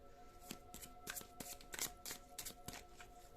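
Tarot cards being shuffled by hand for a reading: a steady run of crisp papery riffles and slaps, about a dozen quick strokes close to the mic with a faint hum beneath and no talk.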